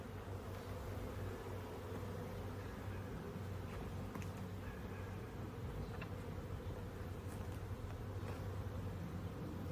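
Honey bees hum steadily around an open hive in a bee yard, a continuous low drone of many insects with no voices present.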